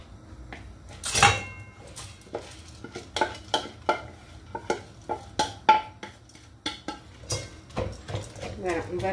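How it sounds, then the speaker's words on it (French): Washed rice is tipped into a pan of hot oil with a loud rattle, then a utensil clacks and scrapes repeatedly against the metal in a steady stirring rhythm while someone speaks now and then. "Je vais mettre le riz que j'avais lavé."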